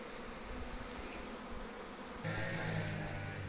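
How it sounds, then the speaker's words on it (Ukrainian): A honeybee swarm that has moved from a tree into a hive box buzzes steadily around it, a dense continuous drone that swells louder partway through, with no voices. "Рій з дерева перейшов в ящик і вже обльотується тут."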